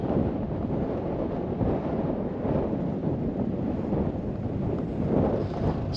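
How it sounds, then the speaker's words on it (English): Wind buffets the microphone on a coastal track on the Nullarbor crossing, making a continuous loud, rough rumble that fills the whole stretch with no other sound standing out. "the wind at our back today, which you can probably hear in the microphone"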